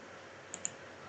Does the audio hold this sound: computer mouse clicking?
yes